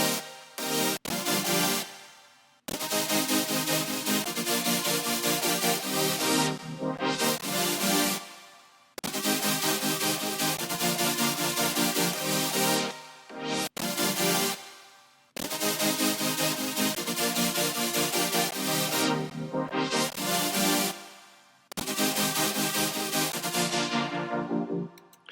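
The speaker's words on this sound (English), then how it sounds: "the next section we're going to have a look at is just the super saw" A future bass super saw synth plays alone in bright, wide sustained chords, each block cut off sharply with short gaps, steady and loud with no other instruments or voices.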